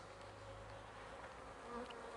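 Faint, steady buzzing of many honeybees at a backyard apiary fills the air, a soft continuous hum with no talking.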